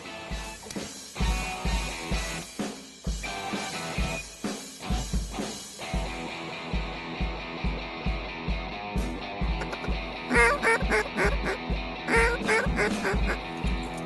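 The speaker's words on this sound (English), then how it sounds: "We woke up a few ducks." Ducks quacking repeatedly during a waterfowl hunt in Canada, a loud, steady run of quacks that are close and clear throughout.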